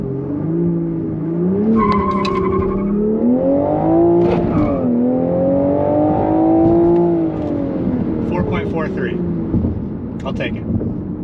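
A 2023 Toyota GR Supra with a 6-speed manual accelerating hard, its engine note rising and falling through sweeping pitch climbs, loud and close, with faint voices in the cabin.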